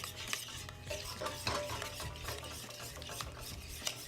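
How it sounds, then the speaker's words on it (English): Sweet potato mixture being stirred and blended in a bowl, a steady scraping and clinking of utensil against dish with soft wet mashing, close and continuous with no talk. "We're going to mix that together till it's nice and blended."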